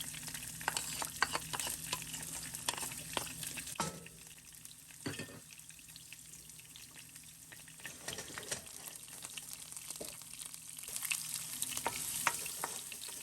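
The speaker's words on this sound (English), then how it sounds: "And then I'm adding my onions." Onions are tossed into a pan with cumin seeds and fry with a soft, continuous sizzle and occasional stirring scrapes, fairly faint, with no one talking.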